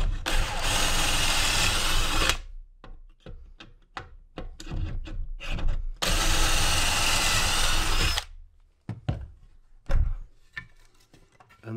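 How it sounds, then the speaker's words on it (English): A power drill whirs through wood in two long bursts, each followed by a few short trigger pulses, close and loud, with no talking. "then we'll simply drill through these holes"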